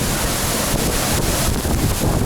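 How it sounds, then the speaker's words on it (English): Strong wind gust blowing mist at a large waterfall at Ouzoud, Morocco, a dense roaring rush of wind and falling water buffeting the microphone, loud and continuous with no talk. "There's a strong gust blowing all that mist all over us."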